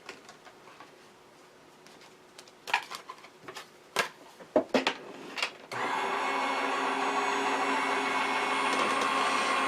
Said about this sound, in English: then I run it through my die cut machine twice